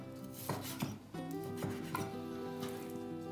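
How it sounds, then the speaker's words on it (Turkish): A knife chops raw chicken into long strips on a cutting board, several quick close thumps at an uneven rhythm, with background music playing under the cuts. "Bu şekilde doğrayacağız tavuklarımızı."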